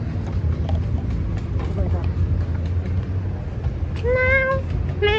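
Two short rising meows from a cat near the end, over a constant outdoor rumble of traffic and crowd noise in Intramuros, Manila.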